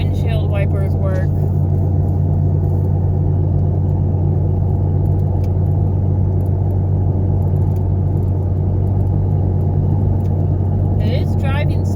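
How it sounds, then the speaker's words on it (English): A car on the road with a worn wheel bearing, its steady low rumble and road drone continuous and loud from inside the cabin throughout, with no one talking. "It is driving smooth other than that wheel bearing noise."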